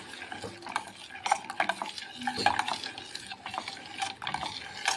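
A spoon stirs a dry fruit kulfi mixture of custard powder in a metal pan over a low flame, with repeated scraping and clinking strokes against the pan, steady and close, no talking.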